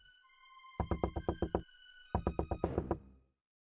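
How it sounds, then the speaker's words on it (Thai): A wolf knocks on the door of a straw house, two quick bursts of about six sharp, hollow raps each, loud and close with a short pause between them. "หมาป่าเคาะประตูเรียก"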